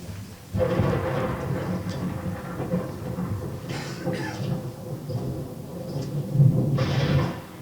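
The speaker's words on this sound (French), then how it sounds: "C'est l'orage." Distant thunder rolls during a storm over Paris at night, a low, continuous rumble with a few louder swells, faint and unbroken throughout.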